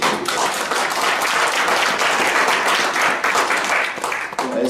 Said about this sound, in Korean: 박요셉님 오늘 함께 해주신 데 대해서 박수 크게 부탁드립니다